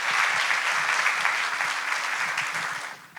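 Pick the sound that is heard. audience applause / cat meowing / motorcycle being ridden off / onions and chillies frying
audience applause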